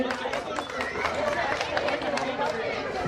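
Audience applause at a cricket premier league prize distribution ceremony, a dense sustained patter of many hands clapping together with crowd chatter, steady and loud throughout.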